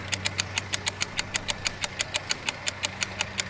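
An engine cranks and runs with a steady, fast, even chugging pulse, loud and close, like an old tractor, with no voices over it.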